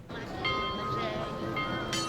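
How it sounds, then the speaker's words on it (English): A bell in the video game The Vale: Shadow of the Crown rings with a sustained, clear metallic tone, repeated once or twice, fairly close, over a low ambient hum. "you hear that bell?"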